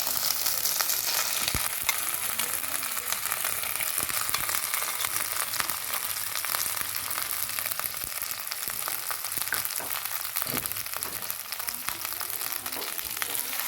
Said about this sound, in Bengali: এইভাবে আস্তে আস্তে করে নাড়াতে রাখলে এটাকে ভাজা ভাজা করে দিতে হবে।